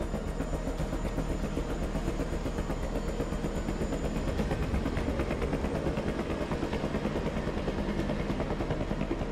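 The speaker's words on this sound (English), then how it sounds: "Helicopter's looking a bit shook now, isn't it?" A helicopter in the horror video game Man of Medan drones steadily with a dense, rapid rotor chop and engine rumble, continuous and fairly loud with no talk over it.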